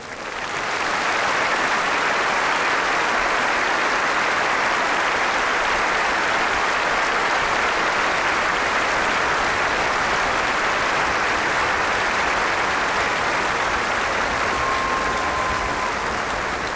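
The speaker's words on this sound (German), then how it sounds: "Geben Sie sie einen riesen Applaus." A large concert audience in Vienna applauds a singer, a broad, sustained roar of clapping that swells in at the start and holds steady and loud for the whole stretch, with no voices over it.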